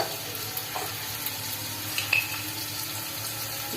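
Spices with salt, turmeric, cumin and coriander powder fry in a pan for mochar dalna, a soft continuous sizzle with faint stirring scrapes and a few small pops, close and alone.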